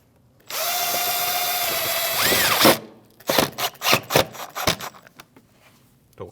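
Power drill driving a Phillips screw into a 2012-2016 Honda CR-V quarter panel splash shield, a close loud whine for about two seconds that rises as the screw seats, then several short rattling clatters and knocks.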